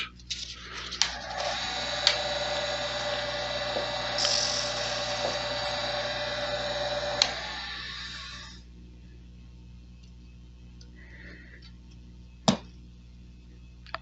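Abrasive cleanup of a burr on an assembled knife spinning in a lathe chuck, a steady high whining grind for about eight seconds with a few sharp clicks, then it stops, followed by a quiet hum and one sharp knock near the end.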